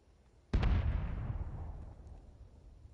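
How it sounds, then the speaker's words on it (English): A single grenade explodes in a first-person shooter video game with a sudden loud blast. A long rumbling tail follows it and fades over about two seconds, with no voices heard. "Grenade out."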